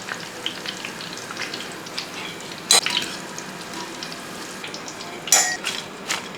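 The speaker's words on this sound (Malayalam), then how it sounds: "മുന്തിരിങ്ങയൊക്കെ ഇങ്ങനെ പൊങ്ങി വരണം കേട്ടോ, സവോളയൊക്കെ ഫ്രൈ ആകണം" Sliced onions, cashews and raisins frying in oil in a pan for chicken biryani, a steady moderate sizzle punctuated by two sharp metallic clinks of a spoon against the pan.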